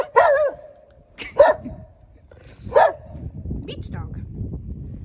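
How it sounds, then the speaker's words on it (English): A dog on Sunny Beach barks loudly and close by, three sharp separate barks spaced about a second apart, followed by a quieter rumbling background. "beach dog"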